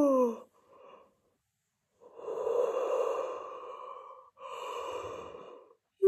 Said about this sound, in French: Je vais faire des grands bâillements.